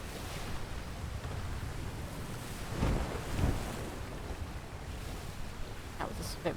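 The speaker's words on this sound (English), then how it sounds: "I think that was just the wind getting under the clouds a bit" Wind gusting and rushing over a sailing ship at sea in the game ATLAS, a steady low roar of air and waves with two louder surges midway and faint creaks near the end, no talking.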